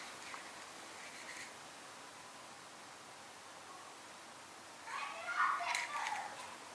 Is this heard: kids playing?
yes